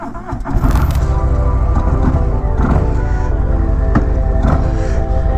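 A Zephyr Blue 2020 Harley-Davidson Breakout motorcycle starts up and settles into a loud, deep, steady rumble close by, running continuously with no talk.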